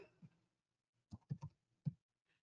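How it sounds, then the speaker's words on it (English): Several key presses on a computer keyboard, a short burst of clicks, then a pause and one last tap, close by in a quiet room. "let's type the whole thing out."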